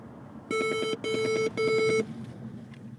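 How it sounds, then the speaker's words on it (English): Three quick bursts of rapid electronic beeping from a Ford car's hard-braking warning, each about half a second long, sound in a row close by against low background hum. "the way the warning comes on is that sound, that beep, beep, beep"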